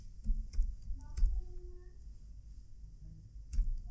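A handful of computer keyboard key presses click close by in a short irregular burst, separated by quiet gaps, with one final keystroke after a pause.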